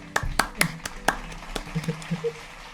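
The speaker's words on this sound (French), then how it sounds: "On applaudit quand même" A few people clap sparsely in a room during a behind-the-scenes introduction, about half a dozen distinct, fairly close claps that fade into softer scattered taps.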